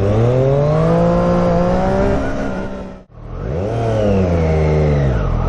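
A Triumph Street Triple RS motorcycle rated at 123 hp: a loud, close engine climbs through the revs, cuts off abruptly at a gear change, then winds up again, with no voices.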